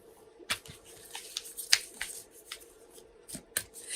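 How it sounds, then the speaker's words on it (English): A deck of oracle cards is shuffled by hand at close range, giving a string of sharp riffling snaps and soft slides in an irregular rhythm, with no talking. "And now I'm shuffling our Sacred Traveler Oracle cards"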